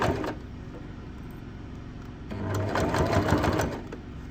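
A sewing machine stitches pinned fabric on a sling bag, a quiet steady run that grows busier and louder partway through, with no talking.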